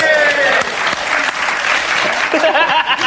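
An audience applauds loudly and steadily, a dense wash of clapping that stays close and continuous throughout, with a few voices mixed in.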